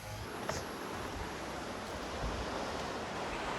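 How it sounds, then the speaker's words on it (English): Ocean waves and breeze on an island in the Philippines, a steady broad wash of surf with wind buffeting the microphone, continuous and fairly loud throughout with no talking. "It's really nice to feel the breeze of the ocean after such a hot day."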